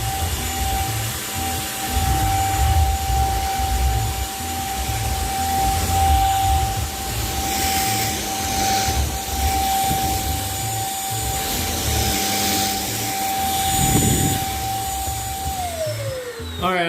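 A vacuum cleaner drones steadily throughout with a constant high whine, its pitch dropping near the end as the motor spins down; soft rubbing and bumping sounds come through along the way.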